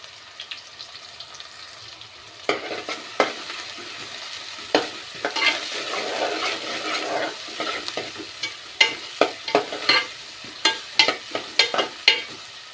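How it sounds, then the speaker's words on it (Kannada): Onions and green chilies frying in hot oil give a steady close sizzle, with repeated sharp scraping and clinking from stirring that gets busier as it goes on. No one talks. "ಈಗ ಎಣ್ಣೆ ಕಾದೈತಿ ನಾವು ಈರುಳ್ಳಿ ಹಾಕೊಳ್ಳೋಣ ಹಸಿಮೆಣಸಿನ್ಕಾಯಿ"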